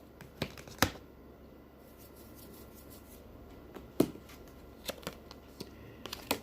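Tarot cards shuffled and drawn during a reading: soft papery riffles and sharp card snaps, a few distinct flicks spaced out over quiet room tone.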